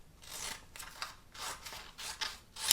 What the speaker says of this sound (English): I'm just going to use my scissors and I'm going to cut around the flock